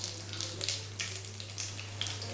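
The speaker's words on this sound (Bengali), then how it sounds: "আমি এখানে কালো জিরে ফোড়ন দিলাম" Black cumin (kalonji) seeds sizzle in hot oil as tempering for semolina upma, a soft, close crackle with scattered small pops and a low steady hum beneath, no talking.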